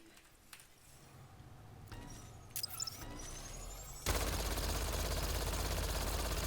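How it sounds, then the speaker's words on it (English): A weapon fires in rapid sustained bursts in the video game Mass Effect Andromeda, starting with scattered sharp shots and building into a dense, loud continuous volley of gunfire. "Now I can shoot and shoot and shoot and shoot and shoot all the duration of turbocharge"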